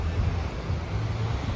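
Small ocean waves break right on the shore of a beach on a low-swell day, giving a steady rushing wash of surf mixed with wind noise across the whole short stretch.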